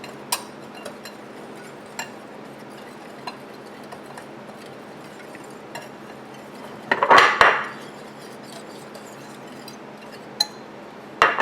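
A dry batter of flour, white pepper, cornmeal and Old Bay is stirred in a bowl, with soft scraping and a few sharp utensil clinks, then a louder burst of brisk mixing near the end.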